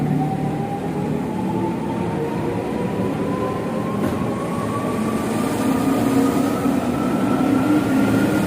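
A KRL commuter train pulls away from a station in Indonesia, a steady loud rumble of wheels and running gear with a slowly rising motor whine, no voices.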